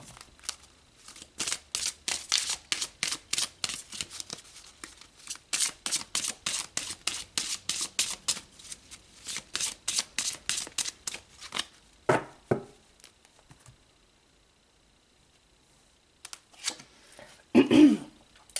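Tarot cards shuffled close by in quick riffling bursts, a long rapid run of crisp slaps that pauses, returns briefly, then gives way to near silence before a few final card rustles; a faint voice is barely present.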